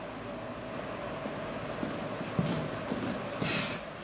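Horses' hooves clip-clopping on a hard surface as riders depart, soft and somewhat distant, with a few louder scattered strikes over a steady background hum and no voices.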